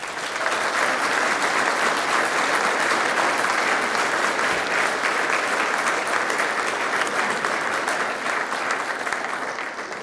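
An audience at a manufacturing excellence awards ceremony applauds in a dense, steady burst of clapping that holds loud for the full ten seconds.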